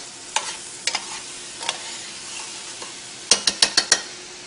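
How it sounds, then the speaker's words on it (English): Pearl onions dropped into green beans in brown butter, sizzling steadily in a pan, with a few sharp pops and clatters scattered through and a quick burst of clinks near the end. "now I'm going to add the pearl onions"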